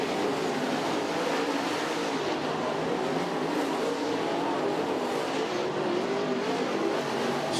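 Modified race cars roar around the dirt oval at East Bay Raceway Park during the Winter Nationals 75-lap A Main, a dense, continuous engine drone from several cars at once, loud and unbroken.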